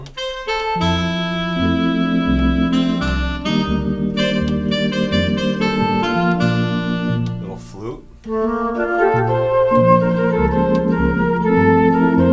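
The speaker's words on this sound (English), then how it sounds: "Here's a saxophone." A saxophone voice played on a Roland Atelier AT-10S organ, carrying a continuous melodic line over sustained chords and a bass line, with a brief dip near the end before the playing resumes, loud and close.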